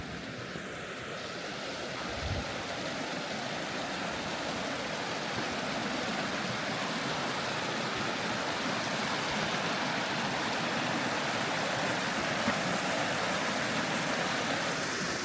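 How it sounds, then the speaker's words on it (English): A creek flowing in Cades Cove in winter, a steady, close rushing of water that stays constant throughout, with no voices. "sounds of the creek."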